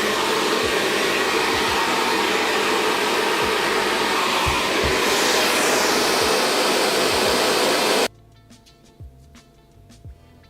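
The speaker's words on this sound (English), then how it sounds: "I'm going to use a diffuser to diffuse it so that I'm not going around with wet hair" A hair dryer fitted with a diffuser blows a loud, steady roar at close range while drying a wig, then cuts off abruptly, leaving a quiet room with a few soft knocks.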